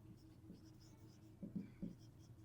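A pen writes numbers by hand on paper, giving soft faint scratchy strokes in a few short bursts against a quiet room background.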